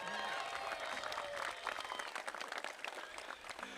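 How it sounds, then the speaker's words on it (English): An audience at a Toronto Raptors and Buffalo Bills partnership press conference applauds for Vince Carter, a steady round of many hands clapping that becomes more scattered and uneven in the second half. "would you give a big round of applause to Vince Carter?"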